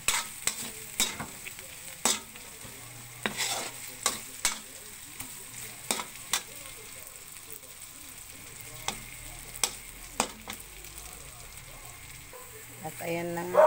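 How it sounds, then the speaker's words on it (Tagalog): Carrots with beef cube and ground meat stirred in a pan for sautéed cabbage, a spoon scraping in scattered sharp clanks and swishes over a soft, steady background sizzle, no talk. "Mekos-mekos na natin yung carrots."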